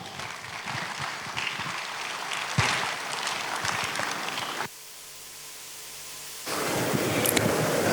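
An audience at an investment summit in Anambra State claps in loud, dense bursts of applause, which break off briefly into a quieter hall before swelling again.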